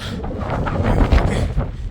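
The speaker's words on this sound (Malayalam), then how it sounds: "നല്ല കാറ്റുണ്ട് കേട്ടോ കാറ്റടിച്ചിട്ടേ" A strong mountain wind near the 12,500 ft Kedarkantha summit in winter buffets the microphone in a loud, continuous rumbling roar that gusts slightly stronger midway.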